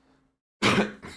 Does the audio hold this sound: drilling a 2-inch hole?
no